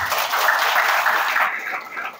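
An indoor audience at a religious talk gives a continuous wash of clapping, fairly loud and steady throughout, thinning slightly toward the end.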